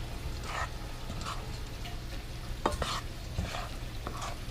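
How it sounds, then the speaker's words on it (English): Garbanzo bean flour bread dough being folded by hand in a bowl, giving soft, wet, sticky squelches and scrapes at close range over a steady low background hum. "Just keep doing it, folding it in."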